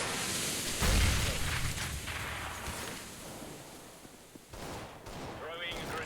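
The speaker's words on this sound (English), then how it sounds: "Throwing a grenade." A grenade explodes in a video game as a deep boom about a second in, followed by scattered gunfire and combat noise with voices talking throughout.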